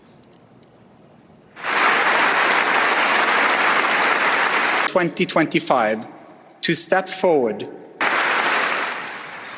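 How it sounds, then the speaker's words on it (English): Applause at the Nobel Peace Prize ceremony, a loud sustained burst of crowd clapping that starts abruptly, is briefly interrupted by someone speaking, then resumes. "was met with applause as she accepted the diploma and gold medal for her mother"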